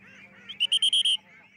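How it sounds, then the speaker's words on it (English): Weed-destroying ducks in Chinese rice paddy fields give a quick burst of about five loud, nasal quacks close by, with a faint hum before and after. "Xie Tongzhou's team used the ancient Chinese farming method of weed-destroying ducks to hoe the paddy fields."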